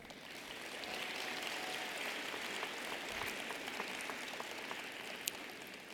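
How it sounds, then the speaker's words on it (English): Commencement audience at a university social work graduation ceremony clapping, a distant, soft wash of applause sustained evenly for several seconds with a few sharper individual claps. "give yourselves a round of applause"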